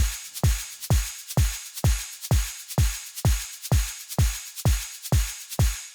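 A synthesized drum loop built in Phase Plant plays on its own: deep punchy kicks and crisp snappy hits repeat in a steady, even rhythm at close, full volume.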